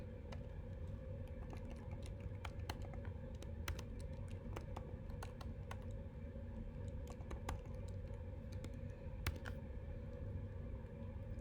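Computer keyboard typing while writing JavaScript code, quick irregular clicks and bursts of keystrokes, soft and close, over a low steady hum with no talk.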